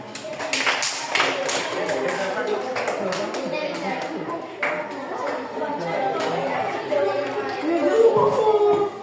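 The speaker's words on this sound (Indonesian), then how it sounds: "kita beri tepuk tangan." A class of schoolchildren claps hands together in a classroom, a burst of scattered clapping under lively chatter and talk that continues throughout.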